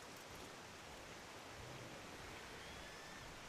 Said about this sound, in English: Only problem with this base is the waterfall. Like it's nice, but then again, it's very loud.